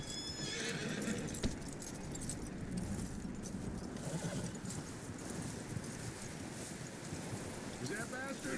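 In the video game Red Dead Redemption 2, a horse whinnies and its hooves clop steadily over a constant background hiss, with a rising whinny near the end.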